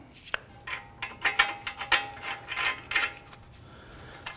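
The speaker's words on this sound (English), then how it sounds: "We're now going to go ahead and install our nuts on the backside and tighten the nuts." A ratchet tightens nuts onto the CV axle bolts of a 2010-2019 Ford Taurus, with a run of close metallic clicks and short ratcheting bursts that fade into quiet handling.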